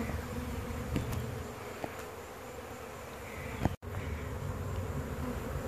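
Honeybees buzz in a steady, dense drone as they are removed from a tree cavity in Tampa, Florida. A few sharp clicks and knocks from the work break through, with one abrupt dropout.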